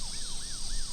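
A wailing emergency siren sweeps up and down in repeating cycles, sounding distant and moderately faint beneath a bright steady hiss of background noise.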